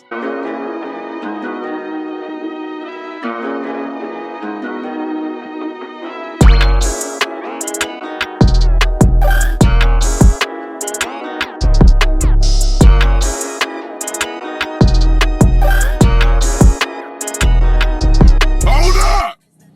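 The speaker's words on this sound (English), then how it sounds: "Here's a drum pattern I made." A looping beat made in Logic Pro X, with punchy kicks and snares, kicks in after a melodic intro, repeating steadily and loudly with no voices.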